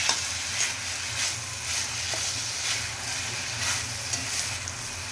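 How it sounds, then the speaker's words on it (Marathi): Jackfruit pieces cook in a kadhai with a steady, close sizzle. Faint scraping strokes recur every second or so, and nobody speaks. "तर आता त्यांना जवळपास एक 5-6 मिनिटांसाठी आपण कढईत शिजायला ठेवूया"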